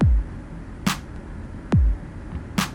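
A sparse dubstep drum pattern made in FL Studio at 140 BPM, with a deep booming kick alternating with a sharp clap and snare hit, each struck alone with silence between, clean and close.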